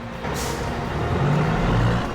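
Heavy boom-arm tow truck on a rainy British Columbia highway, its engine droning loud and close, with an air-brake hiss near the start and a low rumbling strain throughout.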